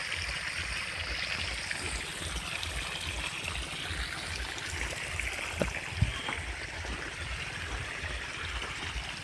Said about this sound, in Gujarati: સીધું નળેથી જ ખામણું ભરાઈ જાય.